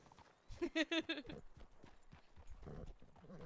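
Horse hooves clip-clopping in the Red Dead game on a WildRP roleplay server, a quick run of close, distinct hoofbeats early on, then softer steps with voices talking over them.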